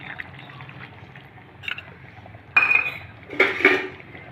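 Cornflour slurry poured into a simmering egg and soybean curry in a pot, heard as soft liquid pouring and a few utensil clinks against the pan, fairly close and quiet with a louder burst near the end.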